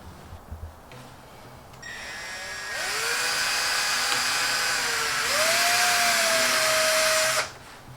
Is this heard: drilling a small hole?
yes